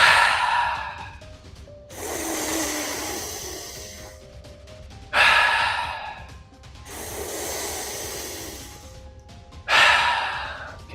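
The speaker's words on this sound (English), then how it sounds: "Continue that wave-like motion for your breathing." Deep breathing during a breathwork exercise: long, airy inhales and exhales alternate in a slow, wave-like rhythm, close and fairly loud, with no talking.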